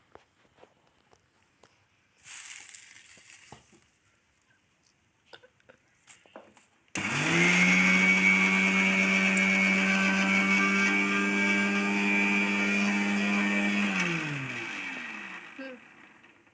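A kitchen grinder crushing cumin seeds, a loud steady motor whir that starts abruptly, runs for about seven seconds and then winds down, after soft handling noises and a brief earlier burst.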